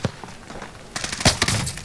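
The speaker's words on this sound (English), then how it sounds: "Shooting." Bursts of gunfire from Call of Duty: Warzone crackle loud and close, a few sharp shots at first, then a denser rapid volley near the end of the short span.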